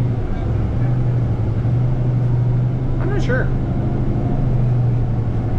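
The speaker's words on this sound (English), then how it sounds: "the bus does sound a bit quieter though, because hybrid buses do tend to sound a bit quieter" A Grand River Transit Route 7 hybrid city bus in motion, heard from inside as a steady low engine drone with a faint whine, running under people talking nearby.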